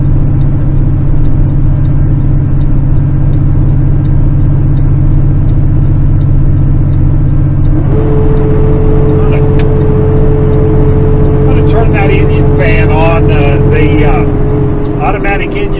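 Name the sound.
loaded truck engine climbing a hill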